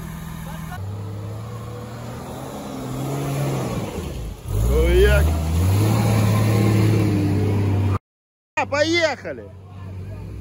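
An off-road vehicle in a forest rumbles with a steady low engine drone, then revs louder as it pulls away. People talk over the engine, and a short shout comes near the end after a brief cut to silence.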